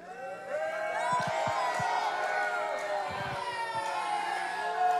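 A crowd cheers and whoops at a professional wrestling show, making a steady, fairly loud roar in a large hall. Scattered claps and shouts stand out from the noise.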